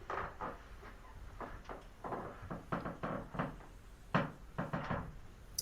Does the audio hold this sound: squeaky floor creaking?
yes